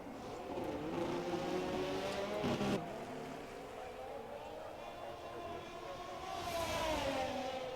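Race cars at Silverstone in a racing video game, several engines whining and shifting pitch as they pass close together, a steady loud drone with rising and falling revs.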